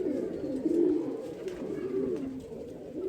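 A black-eyed pigeon coos softly nearby, a couple of low throaty calls over a dull background hum.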